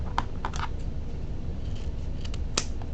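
Scissors snip ribbon for a deco mesh wreath in a quiet room, several short, crisp cuts spread across the moment, with a louder final snip at the end.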